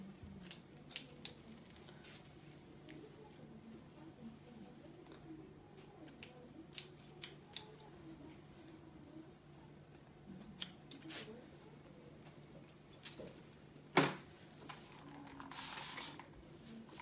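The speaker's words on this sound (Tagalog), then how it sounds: "Paggupit ng straight, importante na ang gunting nyo ay matalim." Sharp scissors snip straight hair during a beginner haircut, giving a series of small, close, irregular cuts and clicks against quiet room background, with one louder snap near the end.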